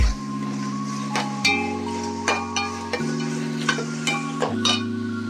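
Tomato pieces for an Andhra fish curry stew in a pan, giving a steady low sizzle under a recurring tonal hum, with several sharp scraping taps of a spoon spaced through the stretch.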